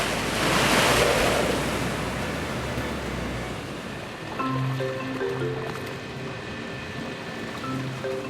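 Ocean waves and surf rolling onto the coast of New Ireland in the Papua New Guinea islands region: a loud, continuous broadband wash that swells early and eases off, with some wind buffeting the microphone.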